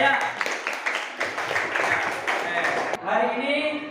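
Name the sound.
classroom applause for a student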